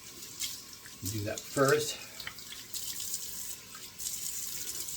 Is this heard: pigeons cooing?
no